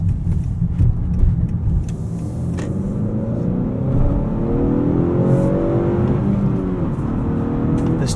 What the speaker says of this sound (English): This 2-liter turbo pulls, and it pulls hard.